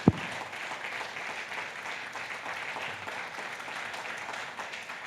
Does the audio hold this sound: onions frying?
no